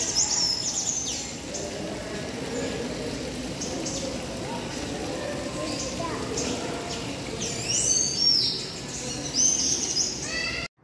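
Birds in a netted zoo aviary in the United States give high, thin chirps at the start and again near the end, over steady background noise and distant voices.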